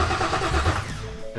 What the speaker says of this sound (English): Oh, it cranks.